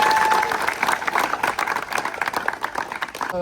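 A crowd at a Govinda pathak dahi handi event in Thane claps and cheers steadily, dense broadband applause running throughout with some crowd noise.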